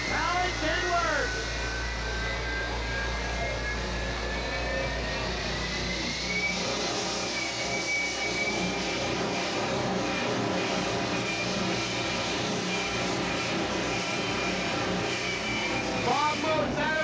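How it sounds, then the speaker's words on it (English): Bob Moses' jet-powered Kenworth truck roars at New England Dragway, a loud, continuous jet-engine howl with a rising whine and a dense rumble that fills the whole stretch, with an announcer's voice running over it. "fire and smoke comes out the stack of Bob Moses' incredible jet-powered Kenworth"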